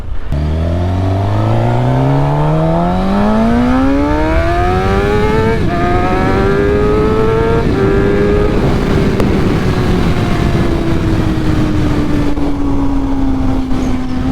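A KTM 390 Adventure motorcycle engine revs up through the gears while riding, rising pitch with shifts, then settles into a steady cruising drone under constant wind rush, loud and close.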